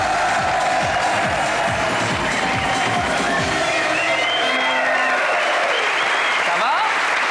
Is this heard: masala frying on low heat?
no